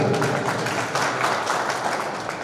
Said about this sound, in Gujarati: એના માટે પણ જોરદાર તાળી.